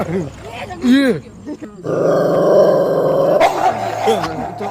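A wild dog growls low and rumbling for a couple of seconds, with voices nearby before and after.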